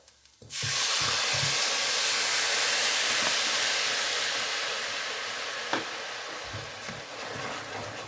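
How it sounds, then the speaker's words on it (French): White wine poured into a seafood risotto pan to deglaze it: a sudden, loud, close sizzling hiss bursts in and holds, slowly easing off over several seconds. "on va déglacer au vin blanc"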